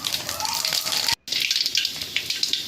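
Mustard seeds crackling and sizzling in hot oil in a kadai, a dense steady hiss with sharp pops, briefly cut off by a short gap of silence midway before resuming just as loud.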